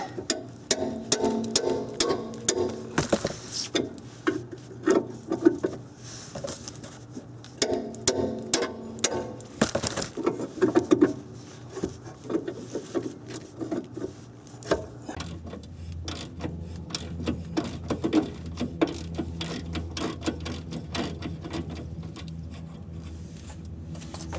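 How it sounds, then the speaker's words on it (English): Ratchet and socket working a suspension bolt loose on the rear suspension of a Nissan Maxima, with bursts of rapid mechanical clicking and clanks up close, a steadier ratcheting run in the latter half, and no talk. "I'll run over, grab over to a ratchet and socket."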